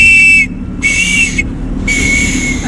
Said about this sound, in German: ich mache jetzt drei Mal pfeifen